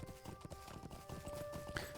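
Horse hooves clip-clop in a steady, quiet rhythm as a mount is ridden through the farmland of the Lord of the Rings Online game, with faint sustained tones behind.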